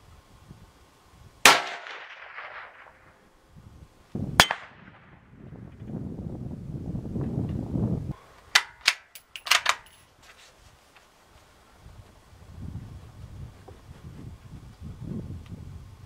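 Rifle shots fired at a small egg target outdoors: two sharp isolated cracks early on, then a cluster of quick sharp impacts or reports later, separated by quiet rustling and handling noise.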